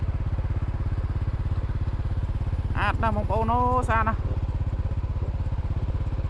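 A motorcycle engine drones steadily up close during a ride past harvested rice fields in the Cambodian countryside, while someone speaks excitedly over it partway through.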